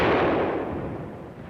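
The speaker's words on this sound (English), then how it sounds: "We kept blasting at them with rifle fire." Dense, loud crackle of WWII rifle fire and rifle grenade blasts, a sustained burst of overlapping shots and booms that slowly tapers off, with no voices.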